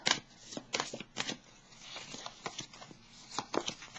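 Tarot cards are shuffled and drawn close up, quick papery riffles and soft slaps coming in short bursts with quiet gaps between them.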